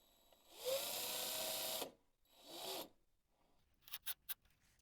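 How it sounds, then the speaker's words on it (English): A power drill runs in two whirring bursts, a long one and a shorter one, during a desktop PC build, followed by a few brief clicks and taps; close and alone, with no talking. "I don't like using the drill for this"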